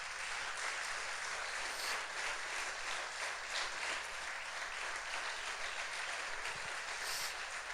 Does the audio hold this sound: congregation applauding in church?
yes